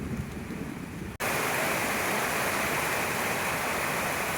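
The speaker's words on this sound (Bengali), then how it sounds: "রীতিমতো জোরে বৃষ্টি হচ্ছে, মানে অনেক জোরে বৃষ্টি হচ্ছে" Heavy rain pours down steadily in a dense, loud roar that begins abruptly after a brief quieter moment, sounding close and continuous, with no talking.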